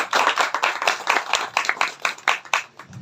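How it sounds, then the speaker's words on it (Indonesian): An audience claps at a halal bihalal arts and culture gathering in Songgoriti. The applause is brief and close, with a few seconds of lively, uneven hand claps. "Tepuk tangan untuk kita semua."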